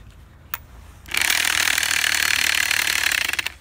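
A damaged power unit built from a lawnmower engine starts up after a brief click and runs with a harsh, rattling, uneven roar that holds at close range for a few seconds.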